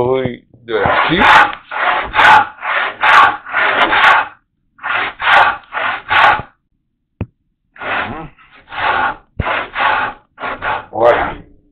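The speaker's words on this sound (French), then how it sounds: "Entendez le bruit de la scie." A hand saw cuts a wooden tenon shoulder with rhythmic rasping strokes, about a dozen back-and-forth pulls in two runs separated by a short pause, close and clear.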